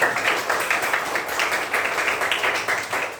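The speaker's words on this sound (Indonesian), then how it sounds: "Tepuk tangan buat kita." A classroom of children applauds together, a full, busy patter of many hands clapping at once that holds steady for a few seconds.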